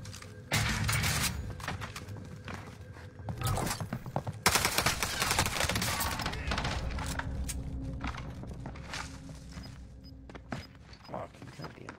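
Street Sweeper shotgun and other gunfire in a Call of Duty match, with repeated loud blasts and rapid bursts spread across the clip amid busy game noise and footsteps.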